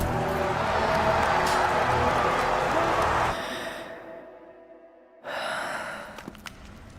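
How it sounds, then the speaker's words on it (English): Heavy, drawn-out breathing or a long sigh from an Xbox game trailer, loud and close for about three seconds, then it cuts to near silence before a fainter, airy noise returns. "Not sure about the breathing though."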